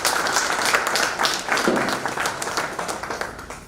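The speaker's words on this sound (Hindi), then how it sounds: "सर के लिए एक बार जोरदार तालियां होनी चाहिए।" An audience clapping for a speaker at a business seminar, a loud burst of applause that fades gradually over a few seconds.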